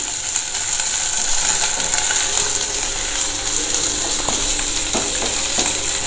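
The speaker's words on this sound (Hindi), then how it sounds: "तो हम अदरक हरी मिर्च को भी प्याज के साथ भून लेते हैं।" Ginger and green chili frying with onion in a pan for mustard greens saag, a steady sizzle with occasional scraping stir clicks throughout, fairly close and continuous.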